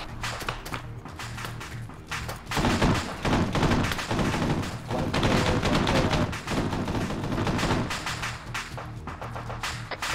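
Sustained gunfire in an Arma 3 military simulation firefight, loud overlapping automatic bursts and single shots continuing through the whole stretch, with occasional distant cracks and no voices.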